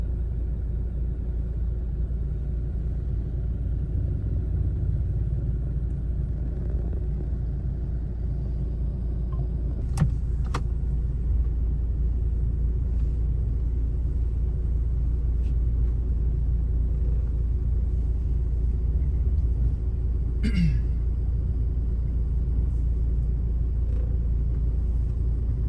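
Cars rolling up to a fuel station in Laos: a continuous low rumble of idling and slowly moving vehicles, with a couple of brief sharper knocks or clanks partway through.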